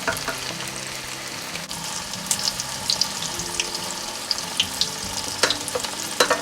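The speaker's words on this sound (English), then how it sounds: "it says you want to fry them until they get golden brown, which they are." Sweet potato croquettes fry in oil with a loud, continuous bubbling sizzle, broken by sharp pops and crackles throughout.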